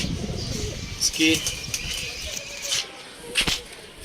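Soft pigeon cooing and a few chirps sound nearby over a steady background murmur, with brief rustling.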